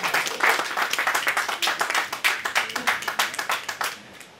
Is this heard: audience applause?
yes